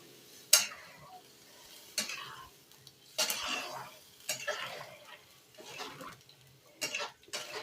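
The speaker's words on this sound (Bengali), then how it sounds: "ভালো করে নেড়ে নেব।" A spoon stirs soybean, spinach and green banana kofta curry in a pan after water goes in, making several separate scraping clinks and soft sizzles spaced a second or so apart, fairly quiet and close.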